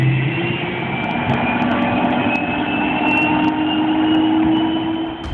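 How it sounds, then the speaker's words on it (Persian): An M1 Abrams tank with its AGT 1500 gas turbine engine gives a steady, loud, jet-like whine and roar that holds evenly throughout without pause. "به همین دلیل آبرامس موقع حرکت صداش بیشتر شبیه صدای جته."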